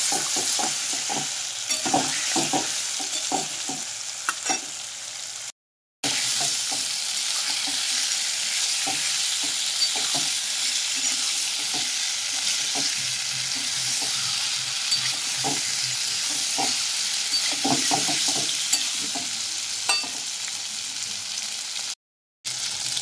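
Amla pickle spices are stirred in a hot pan, with a continuous sizzle and hiss of oil under irregular scraping strokes of a spoon, broken by two brief silent gaps.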